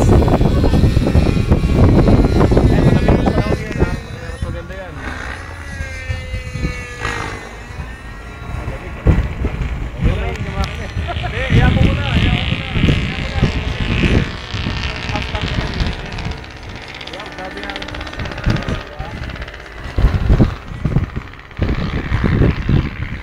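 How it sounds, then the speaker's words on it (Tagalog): Strong wind roars and buffets steadily throughout while a Hirobo SDX model helicopter is flown, loud and close, with voices talking over it. "Sobrang lakas ng hangin."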